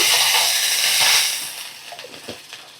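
Water splashed into a hot pan of curry leaves and green chillies erupts into a loud, broad hiss that fades after about a second and a half into softer crackling and popping, with no talking.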